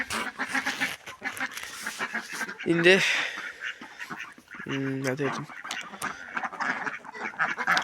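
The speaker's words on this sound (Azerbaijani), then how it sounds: "Bu ördeğimiz dedim gedəcək" Pet ducks quack in a few short bursts while someone talks almost throughout, the calls standing out clearly between and over his speech, fairly near.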